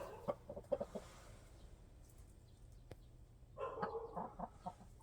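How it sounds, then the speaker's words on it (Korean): Soft, scattered clucking from brooding hens sitting on eggs, a few short bursts early and again near the end, faint and somewhat distant. "우리 꼬꼬들이 오늘은 딱 두 마리가 아주 합작으로 알을 품고 있네요"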